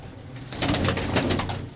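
Close, soft cooing from a pigeon among a keeper's flock of high-flying birds, a couple of low throaty coos rising and falling over about a second.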